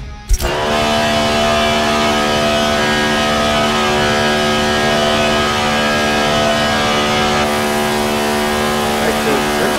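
A racing car engine in the video game Forza Motorsport 7 revs at a sustained high pitch, droning steadily and loudly with little variation for nearly the whole stretch.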